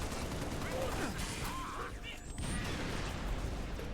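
Gunfire in the video game Halo Reach: a dense burst of rapid shots and crashes, mixed with game effects and faint whooshing tones over a noisy background.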